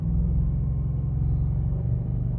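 An Audi S6 or S7 fitted with adjustable launch control holds a steady, loud, low rumbling engine note at part throttle, a continuous burbling drone with no speech over it.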